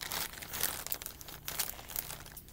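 Plastic Amazon mailer bags being opened, with steady crinkling and crumpling of thin plastic continuing close by for the whole stretch, no talk over it.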